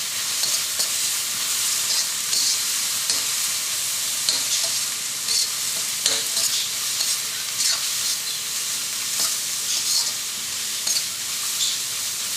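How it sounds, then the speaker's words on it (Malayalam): Onions sautéing in a pan for Kerala mutton curry, a continuous bright sizzle with repeated spoon stirring and scraping throughout, close and fairly loud with no talking. "ഈ സവാള നന്നായിട്ടൊന്ന് വഴറ്റാം."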